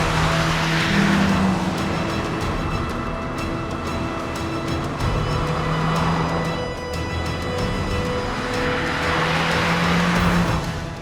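A second-generation Volkswagen Golf GTI Mark II drives along with a steady, loud engine drone and shifting harmonic tones, gear changes audible as pitch drops, with no talking over it.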